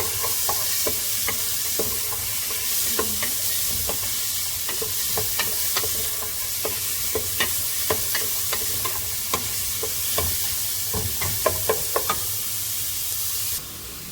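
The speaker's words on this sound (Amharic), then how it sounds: "በዚህ መልኩ ሽንኩርቱ እስከሚጠበስ ትንሽ እንጠብቀዋለን ማለት ነው።" Chopped onion frying in a pan makes a constant loud sizzle, dotted with quick clicks and taps from stirring, and cuts off abruptly at the end, with no one talking.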